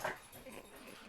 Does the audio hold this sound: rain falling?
no